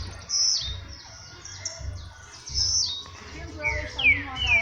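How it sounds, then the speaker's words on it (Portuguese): A blue-black grassquit (tiziu) sings in repeated short, high chirping phrases, fairly close and clear, with a low background rumble throughout. "o passarinho tá ali cantando"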